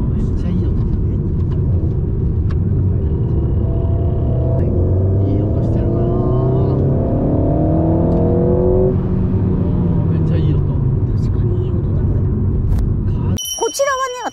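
A Renault Alpine A110S sports car engine drones steadily from inside the cabin while driving, its pitch sweeping up through the gears and then settling into a constant loud hum, with a chime near the end.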